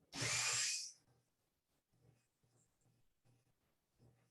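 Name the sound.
Dremel rotary tool sanding foam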